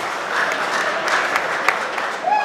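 Audience applause fills a Punjabi stage drama hall, a dense, steady wash of clapping that carries on throughout with a few sharper claps rising above it.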